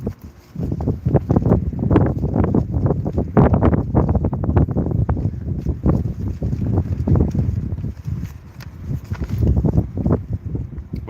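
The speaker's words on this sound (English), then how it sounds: "it's way too cold and windy out here" Gusty wind buffets the microphone in loud, rumbling surges, continuous and rough, easing slightly toward the end.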